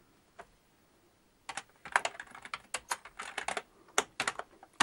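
Keys clatter on a Sinclair QL home computer keyboard. After a near-silent start comes a close, quick run of sharp keystrokes in uneven bursts.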